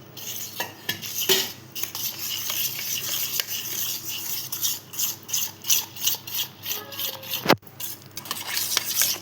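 A whisk beats mango pancake batter in a pot with a steady, rapid metallic scraping and clinking rhythm, close and loud, with one sharp knock near the end.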